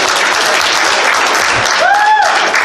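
Loud, dense clapping from an audience fills the whole moment, with a brief cheer or whoop rising near the end.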